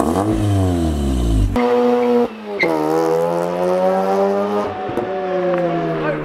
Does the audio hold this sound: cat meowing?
no